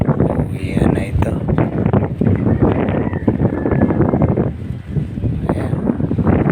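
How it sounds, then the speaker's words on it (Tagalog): Strong wind buffets the microphone outdoors during a hunt, a loud continuous roar and rumble that runs the whole time, with brief moments of voices mixed in. "Hirap talaga pag ganitong inabot ka ng lakas ng hangin."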